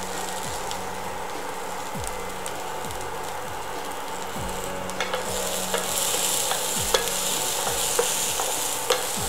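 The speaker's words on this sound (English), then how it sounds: "Keep sautéing it for around 10 minutes till the sprouts and the corn are well cooked." Sprouts and corn sautéing in a pan, with a constant sizzle and repeated scraping strokes of a spatula at a steady rhythm, close and clear with no talking.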